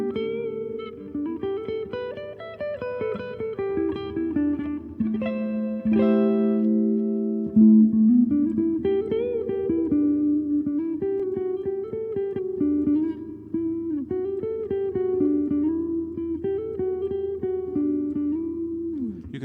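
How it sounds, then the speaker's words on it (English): Mellow electric guitar, a Fender Modern Player Jazzmaster HH on its neck pickup with tone dialed down, giving a warm, rounded jazz tone, playing chords and single-note lines steadily and clearly, close and alone without voices. "you can still get some pretty mellow jazz tones out of it"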